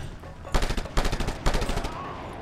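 Rapid bursts of gunfire crack out in Just Cause 2, three quick rattling volleys close together and loud, with faint voices around them.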